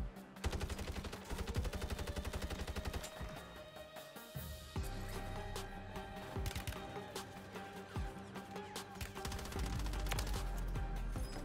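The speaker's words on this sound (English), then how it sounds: "Somebody else was shooting me from the back." Rapid bursts of automatic gunfire in the Warzone battle royale shooter, dense and continuous over music-like game ambience, with no talking.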